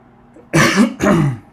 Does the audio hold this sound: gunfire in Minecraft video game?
no